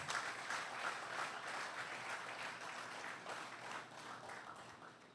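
Sustained audience applause at an awards ceremony during an annual conference, a steady dense wash of many hands clapping that holds evenly for the whole stretch with no voices on top.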